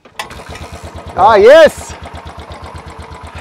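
A Royal Enfield Bullet 500 single-cylinder motorcycle is kick-started and settles into a steady, thumping idle with a clear even pulse, close and loud, while a brief voice speaks over it.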